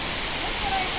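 Waterfall pouring nearby, a dense steady hiss of falling water filling the whole second, close and even.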